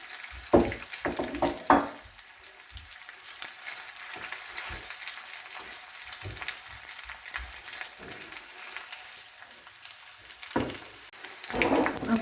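Egg, onions and tomatoes fry in a skillet, a quiet steady sizzle close by, broken by a few louder scrapes and stirring sounds near the start and the end.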